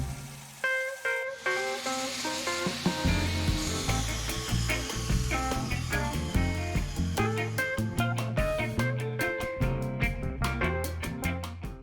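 A lathe spins a block of about 1000 resin-coated colored pencils while it is sanded into a bowl, giving a steady whirring rub broken by rhythmic scraping ticks that grow quicker and sharper toward the end.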